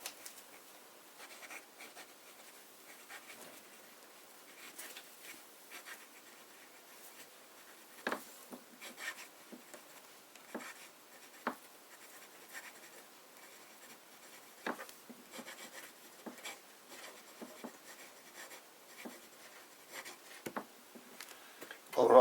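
A pen with a fine nib writes Cross Blue ink on paper, giving faint, close scratchy strokes in short irregular bursts against a quiet background.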